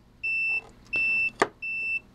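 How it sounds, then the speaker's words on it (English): A cheap amplifier under test gives three steady electronic beeps, evenly spaced and fairly loud, with a short click between the second and third. "stupid things beeping"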